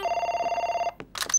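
A telephone rings in a French cartoon with a steady electronic trill pulsing for about a second, then stops, followed by brief clattering noises.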